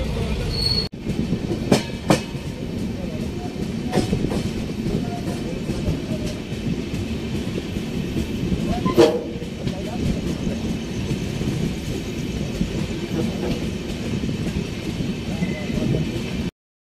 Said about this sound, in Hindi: बढ़िया ट्रेन है, मस्त ट्रेन है बहुत ही।